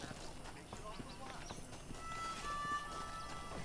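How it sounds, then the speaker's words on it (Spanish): Horse hooves clip-clop at a gallop in Red Dead Redemption, steady rhythmic thuds under game ambience while someone talks over them. "¿Dónde están los caballos?"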